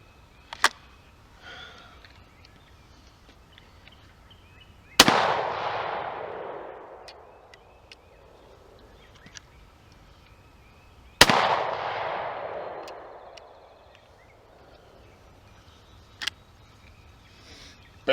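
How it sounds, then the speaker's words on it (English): A shotgun fires 30-year-old Winchester shells outdoors in two loud, sharp blasts several seconds apart, each followed by a long rolling echo, with faint clicks between them. "let's shoot some of this 30-year-old Winchester"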